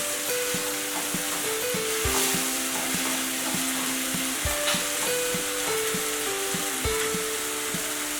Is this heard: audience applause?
no